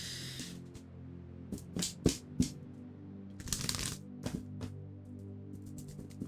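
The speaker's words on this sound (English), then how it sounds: "This deck doesn't want to shuffle." Tarot cards being shuffled by hand, a string of crisp riffling bursts and soft slaps with pauses between them, close and fairly quiet over a low steady background hum, no talking.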